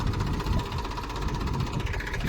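A tractor engine runs close by in a steady, even drone with a rough, pulsing mechanical beat and no letup.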